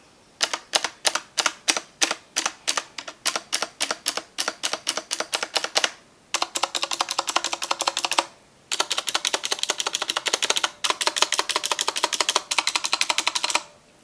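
Rapid, steady clicking from a mechanical keyboard with Cherry MX blue switches, with spacebar presses through stabilizers, continuing in dense bursts broken by two short pauses; close, loud and alone.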